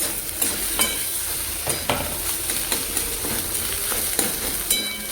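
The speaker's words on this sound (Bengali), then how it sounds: "দেখো ডিমটা একটু ভাজা ভাজা করতে হবে" An egg sizzles in a hot pan while a metal spatula scrapes and stirs in irregular strokes, close and fairly loud, with no speech.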